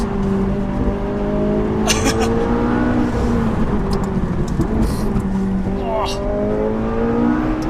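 A McLaren 570S accelerates hard on a cold winter road, its engine revving up through rising gear pulls with a brief loss of traction, loud and close inside the car while people talk over it.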